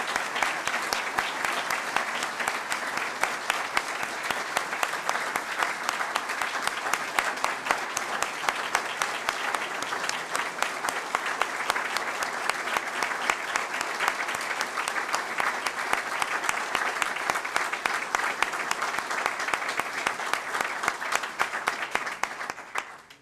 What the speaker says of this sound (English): I hope you will all please join me in a round of applause for Mr. Merchant's achievement